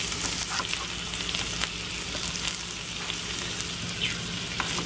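Potatoes frying in a pan, giving a continuous crackling sizzle that sits fairly close with scattered pops and a few stirring scrapes.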